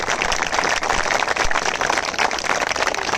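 An audience claps continuously at a teachers' gathering, a dense, loud, even wash of applause with no pauses and no voices over it.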